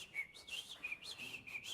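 A person whistles an imitation of a sabiá thrush song, a run of short, high, clear melodic notes repeated in quick phrases, faint and alone without talk.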